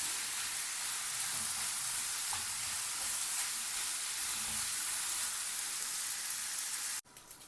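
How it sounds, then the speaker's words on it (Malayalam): Chicken curry cooks covered in a pan, giving off a constant broad sizzling hiss with faint bubbling underneath, steady throughout until a sudden knock near the end. "ചിക്കനൊന്ന് നന്നായി കുക്ക് ചെയ്ത് തന്നെ അടച്ച് വെച്ച് വേവിക്കാം"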